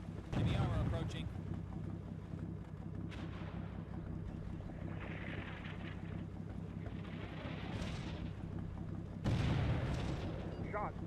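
Tank gunfire from an M60 in the Cold War combat game Combat Mission Cold War, with two heavy booming shots at the start and near the end over a steady rumbling battlefield background, with voices talking.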